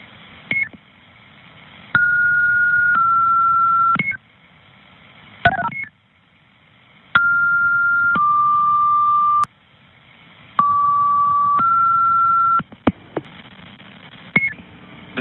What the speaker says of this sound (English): the tones at the very beginning are what sets our pagers off